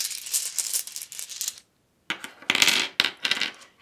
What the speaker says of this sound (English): Let's get your runes out as well.